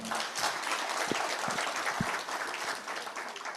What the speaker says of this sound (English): Give him a hearty clap.